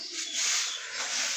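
A racing pigeon coos nearby, a continuous, fairly loud, throaty burbling call over about a second and a half, with no voices present.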